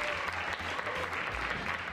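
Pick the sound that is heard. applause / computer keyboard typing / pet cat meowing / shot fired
applause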